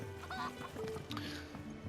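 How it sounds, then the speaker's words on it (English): Chickens in the video game Final Fantasy XVI cluck and squawk in short, fairly loud bursts close by, with brief harmonic calls over a busy game soundscape. "I keep walking into these chickens."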